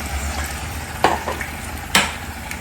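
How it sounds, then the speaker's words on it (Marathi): Spice paste cooks in hot oil, giving a steady sizzle with a few sharp scraping stirs of a utensil against the pan. "आणि आता ही पेस्ट आपल्याला मस्त शिजवून घ्यायची आहे तेलामध्ये"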